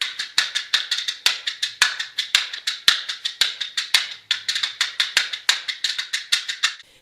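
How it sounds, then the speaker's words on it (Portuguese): Quick samba rhythm tapped and rattled on a small matchbox, a steady run of dry, crisp clicks with regular accented beats, close and alone for about seven seconds. "o samba, ele pode ser feito com uma caixinha de fósforo"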